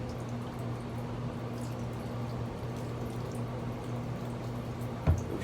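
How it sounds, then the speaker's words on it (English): Water drains out the bottom of an air pot of coco growing medium resting on a milk crate, making a steady soft trickle with one louder drip splash near the end. "This air pot's sitting on a milk crate, so the water can just run out the bottom."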